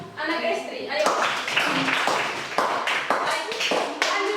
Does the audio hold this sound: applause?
yes